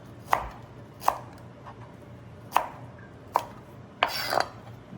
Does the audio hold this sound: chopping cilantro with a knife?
yes